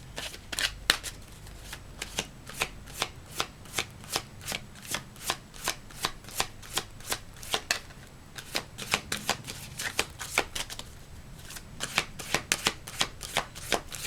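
Tarot cards are shuffled close by in a long series of sharp papery riffles and slaps, coming in a quick, fairly regular rhythm with a brief pause midway, and no talking.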